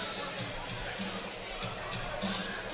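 Crowd murmur at a high school basketball game between North Little Rock and Jonesboro at the Hurricane Classic, a steady, fairly subdued hubbub of chatter with faint scattered voices and no loud cheering.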